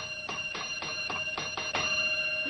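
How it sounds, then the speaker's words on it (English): A ringing bell sounds in a television sitcom scene, a quick series of about six bright, evenly spaced rings, fairly loud and with no talking over them. "Listen to that ding-a-ling ringing that bell."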